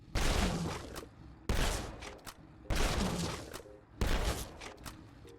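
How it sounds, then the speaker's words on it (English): Four loud, booming shotgun blasts from a Select shotgun fire at a Deathclaw in a video game, spaced roughly a second apart, each followed by a decaying echo and smaller impact and creature sounds. "starting with the standard version of the Select shotgun, let's see how this thing does against a Deathclaw as our baseline"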